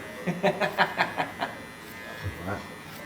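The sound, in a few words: electric razor shaving a face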